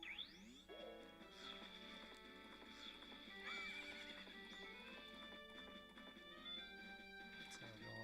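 A horse in the Zelda Majora's Mask video game whinnies with a rising, wavering neigh over steady clip-clopping hooves, game music and effects layered underneath, fairly loud and continuous.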